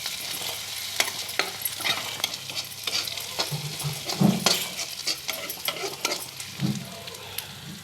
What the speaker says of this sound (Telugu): ఉల్లిపాయలతో పాటు ఈ చేపల సన్ని బాగా ఫ్రై చేసుకుందామండి